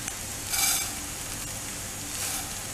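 Coriander seeds roast in a pan beside browned onions, a soft, steady sizzle with two brief swells of scraping as they are stirred, fairly quiet and close.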